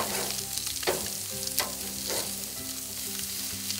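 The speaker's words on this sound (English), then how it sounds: "Nice hot grill, sear it, lock in all the flavor" Fish fillets searing on a hot grill, giving a steady, close sizzle and crackle with soft stirring or scraping touches throughout, no talk.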